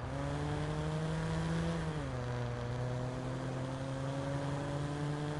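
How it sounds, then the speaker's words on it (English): Toyota Supra engine in the Watch Dogs video game, a steady droning hum with a clear tone that dips slightly in pitch partway through, holding loud and even throughout with no talk over it. "This sounds like a Supra."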